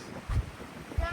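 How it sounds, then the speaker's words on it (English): Wind buffets the microphone at the Nuʻuanu Pali Lookout in Honolulu, a steady rush with two low, heavy gusts close by. "It's windy."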